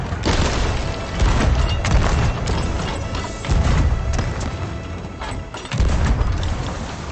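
Ship cannons firing in a pirate video game during a fort battle, heavy booming blasts repeating every couple of seconds, each with a deep rumbling tail under a constant wash of sea and battle noise.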